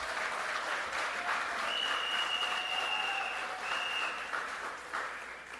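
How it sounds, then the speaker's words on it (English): A crowd applauds steadily at an outdoor political rally in Siparia, the dense clapping holding for several seconds with a whistle or cheer cutting through, then easing off slightly at the end. "Please let us give him that wonderful applause."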